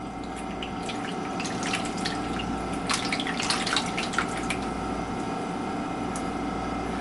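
Thick meatball bake mixture poured into a baking dish, a steady wet, sloshing pour with soft splats and drips running continuously at moderate level, no voices.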